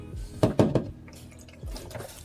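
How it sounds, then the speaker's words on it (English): Homemade almond milk dripping slowly through a strainer: a few quick wet drips and trickles near the start, a quieter pause, then a softer patter of drops, close and faint, with no talking. "So then I pour my new almond milk to watch it strain"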